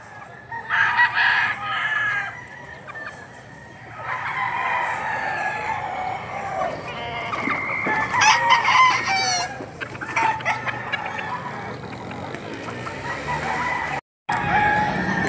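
Roosters crow repeatedly and chickens cluck at a poultry market in Padre Garcia, Batangas, loud, close, overlapping calls with little talk.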